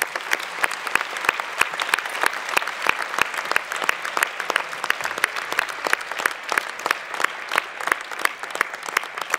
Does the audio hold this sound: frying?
no